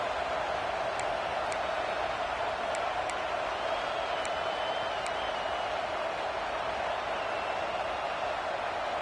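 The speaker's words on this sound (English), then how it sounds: "This crowd bringing the energy and noise early." Steady crowd roar fills a stadium at a Virginia Tech versus UCLA college football game, a continuous broad wash of noise with a few faint high whistles poking through, no distinct cheers or announcements standing out.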